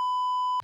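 A censor bleep, a single steady electronic tone under a second long that cuts off abruptly, with a faint trace of voice right after.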